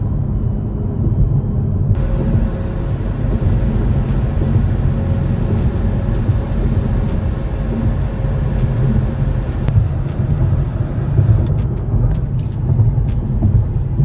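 Continuous low engine rumble and road noise from a Hyundai Veloster N driving steadily, loud and close, with a brief shift in tone partway through.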